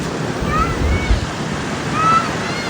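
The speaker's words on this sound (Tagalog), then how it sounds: "sobrang hangin dito" Strong wind buffets the microphone at a sandy beach near a monument, a loud continuous rush blended with surf, with faint gull-like cries in the background.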